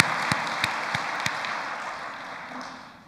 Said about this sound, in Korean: 준비해 준 분께 여러분 박수 한번 보내주시겠습니까?